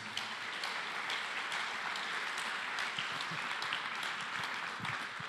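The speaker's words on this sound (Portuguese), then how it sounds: "Aplauda o Senhor Jesus." A church congregation applauds during a sermon at a Quadrangular evangelical service, a soft, distant and continuous wash of many hands clapping.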